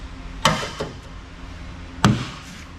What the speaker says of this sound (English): just take my rock hammer and give it a little hit